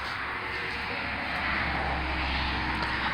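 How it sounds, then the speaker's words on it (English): Steady road traffic rumble heard from a home driveway, a continuous broadband wash of distant passing vehicles with no distinct events, moderately loud and unbroken throughout. "Excuse the background noise, traffic, and in my driveway."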